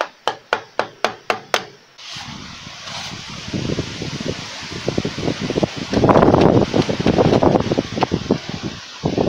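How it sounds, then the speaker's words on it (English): A hazel wood club strikes a chisel cutting into wood, opening with a quick series of about seven sharp knocks, followed by rougher scraping and chipping of the wood, close by. "Nice little tool to use, rather than metal, just for chiseling on wood."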